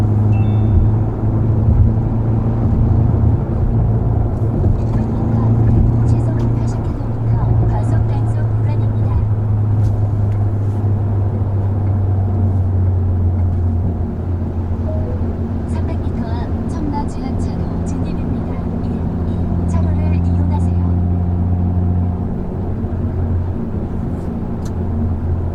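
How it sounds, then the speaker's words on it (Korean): A Hyundai Veloster N engine drones steadily with a deep exhaust rumble, variable exhaust valves fully open in Sport Plus mode, heard from inside the car as it cruises through town, with someone talking over it. "배기가 이제 가변배기가 다 열려서 배기음이 가장 큰 소리로 나고 있는 상태였고"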